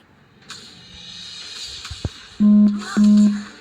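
A phone message notification chimes twice in quick succession over the sounds of a mobile game, each tone loud and sustained with a steady pitch.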